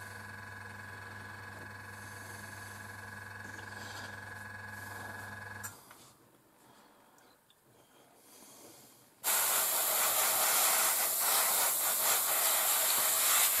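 An airbrush or spray can hisses while paint goes onto an Academy 1/72 scale North American Mustang model kit. A steady tonal hum gives way to a brief quiet stretch, followed by a loud, sustained broadband spray hiss.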